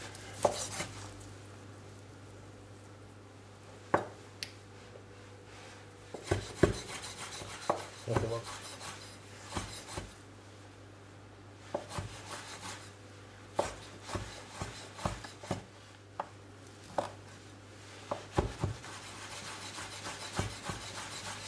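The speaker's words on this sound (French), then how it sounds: "on va la couper en petits morceaux" Knife chopping cooked pot-au-feu beef into small pieces on a board, a series of sharp, close, fairly quiet knocks coming in irregular bursts, with soft scraping between them.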